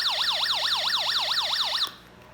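A Snap Circuits Jr. electronics kit sounds an up-and-down electronic siren that wails loudly and steadily, cycling rapidly for nearly two seconds before cutting off abruptly into quiet.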